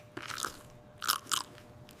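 Raw bell pepper bitten into, three crisp, close crunches spaced apart, each a sharp wet snap followed by brief chewing, with no talk.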